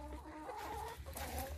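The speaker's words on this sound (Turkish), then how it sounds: "Horozum da var burada." Chickens and a rooster cluck continuously in a backyard coop, a close, steady chorus of overlapping calls with no speech.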